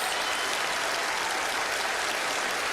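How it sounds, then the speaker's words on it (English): A studio audience at a televised magic show claps for a volunteer called up onstage, a steady, even roar of many hands that stays uniform and fairly loud throughout. "Give him a big round of applause."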